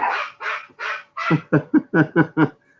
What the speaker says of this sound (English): They're just gonna keep barking until she opens the door.